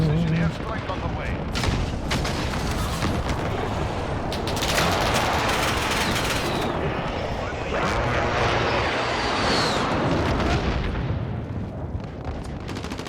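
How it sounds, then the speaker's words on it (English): A precision airstrike and gunfire in the Modern Warfare video game: a dense, loud, continuous roar of aircraft and overlapping bursts of rapid gunfire and blasts, with a voice talking over part of it. "Friendly precision airstrike on the way"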